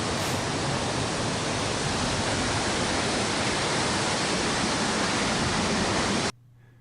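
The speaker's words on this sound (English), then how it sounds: "there's a cool waterfall that drops into the ocean" A Newfoundland waterfall pours into the ocean, a loud, steady, broadband roar of falling water that holds constant and close before cutting off abruptly near the end.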